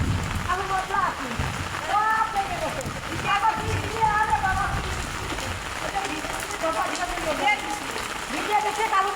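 Heavy rain falls steadily in a broad, hissing patter that runs throughout, while people talk nearby over it.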